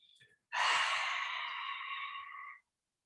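A single deep breath during a guided relaxation session: a brief quiet intake, then one long, close, airy exhale lasting about two seconds that fades smoothly into silence.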